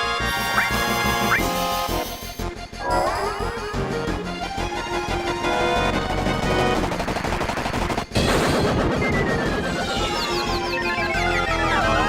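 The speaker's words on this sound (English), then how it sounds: "Oh, now they're gonna shoot rockets at us." Enemies firing rockets in Final Fantasy VII, loud rapid bursts of game weapon fire layered over busy battle music and effects, continuous and dense with a brief break near the middle.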